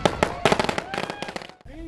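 Fireworks and firecrackers bursting on New Year's Eve at a Texas hunting camp beside a campfire, a rapid string of sharp cracks and pops close by, thinning out before a brief pause and a final fizzing burst.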